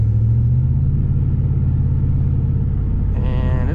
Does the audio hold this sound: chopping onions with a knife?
no